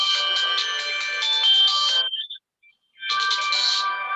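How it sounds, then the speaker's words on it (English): A phone ringtone goes off during an online Zoom meeting: a bright, loud electronic melody plays for about two seconds, breaks off briefly, then starts up again. "mute those whose phones are ringing"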